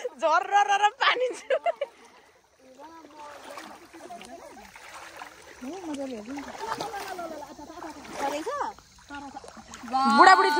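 Water splashes in a stream at night during a fishing outing in Itahari, Nepal, with irregular nearby splashing mixed under almost constant chatter from children and adults.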